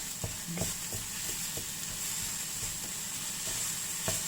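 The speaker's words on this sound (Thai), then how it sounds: "แล้วเราก็จะคั่วให้มัน หอมหอมหน่อยให้มันได้รสชาติหน่อย ให้มันออกน้ำตาลนิดๆ" Ingredients for a Thai salad sizzle and hiss steadily as they stir-fry in a hot pan, with occasional scrapes and taps of the spatula against the metal.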